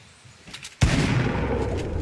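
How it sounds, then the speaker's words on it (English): In Fortnite, a sudden loud burst of gunshots aimed at a trap breaks out after a quiet stretch and keeps rattling densely to the end. "Oh, you're shooting it."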